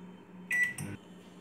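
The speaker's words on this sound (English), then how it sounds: "put it in the microwave" Microwave oven started up, a short beep followed by a click and the low steady hum of it running, quiet and close in a kitchen.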